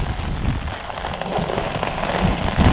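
Steady rain pours down during a storm that is flooding rural roads, a dense, continuous hiss with scattered sharper drops striking nearby surfaces.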